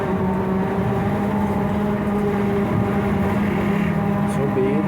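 Interior of a Scania 6x2 trolleybus while riding: a loud, constant electric motor whine with steady humming tones over a rumbling road drone, with speech partly audible over it.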